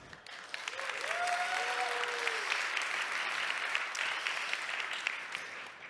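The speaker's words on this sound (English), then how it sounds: "would you please give them a round of applause?" Steady applause from a conference audience for the Disobey event staff and volunteers, rising quickly to a dense, sustained clatter across the room and holding for several seconds, with a brief tonal whistle-like sound near the start.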